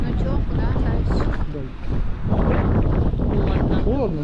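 Strong cold wind buffets the microphone on a crowded seaside promenade in Lazarevskoye, a heavy low rumbling roar with gusty surges, and voices talk through it.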